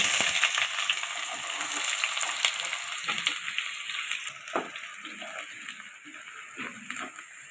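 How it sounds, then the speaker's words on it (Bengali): Chopped onion hits hot dalda mixed with white oil, bursting into a loud, crackling sizzle that gradually settles into a softer, steady fry, with occasional scrapes of a spatula stirring. "তেল গরম হয়ে গেছে পেঁয়াজ কুচি দিয়ে দিলাম"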